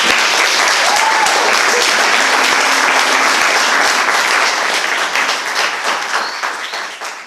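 Loud, dense audience applause after poets perform at a poetry show, a sustained wash of clapping that holds steady and then tapers off near the end.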